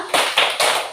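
Children clap in a quick rhythmic spirit-clap pattern, three sharp bright claps in rapid succession, close and loud with no talking.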